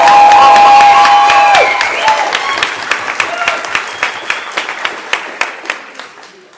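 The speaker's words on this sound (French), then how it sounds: "je vais vous demander, s'il vous plaît, de faire un tonnerre d'applaudissements pour Assa Diallo" Thunderous applause from an audience at an eloquence contest, a full crowd clapping loudly with a sustained tone and cheering at first, then thinning into slower, spaced individual claps as it dies down.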